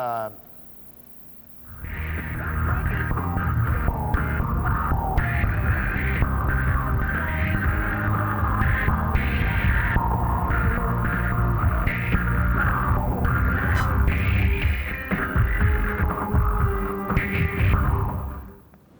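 A wobbling, effects-laden electronic tone with echo and throbbing modulation plays continuously and loudly for most of the clip after a brief quiet start.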